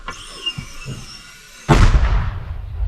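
A sudden loud boom of a mortar firing a single shot in combat near Bakhmut, cutting off a quieter stretch, with a rumbling roar that lingers afterward.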